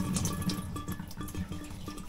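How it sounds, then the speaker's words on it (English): A garden hose runs water onto bonsai seed-starting soil, giving a steady close splashing wash that lasts the whole stretch with slight surges. "I'm just gonna get it wet with the hose."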